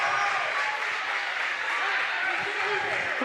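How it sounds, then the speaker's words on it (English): Rowdy crowd at a girls varsity high school basketball game, a steady wash of cheering and applause with voices mixed in, continuous and loud throughout. "A rowdy crowd tonight"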